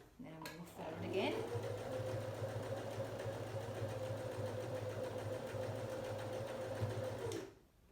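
A sewing machine runs zigzag stitching across a worn patch on a pair of jeans, giving one steady mechanical hum of about six seconds that starts after a brief click and stops abruptly.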